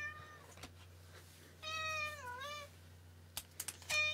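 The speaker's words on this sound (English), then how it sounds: "I don't know how well my mic is picking up the cat, but she is definitely not having this." A female cat meows indoors, one long, wavering, drawn-out cry near the mic, with a few faint clicks and taps around it and a quiet steady hum underneath.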